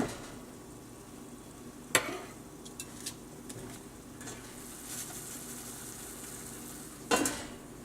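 Cabbage and tofu frying in a pan give a steady low sizzle, with a few sharp utensil clinks and scrapes against the pan, the loudest near the start and again toward the end.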